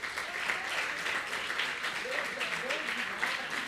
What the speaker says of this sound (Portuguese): Aplauda o Senhor que Ele merece.